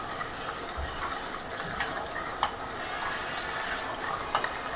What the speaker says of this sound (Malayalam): ഒന്ന് നല്ലതുപോലെ മിക്സ് ചെയ്യാം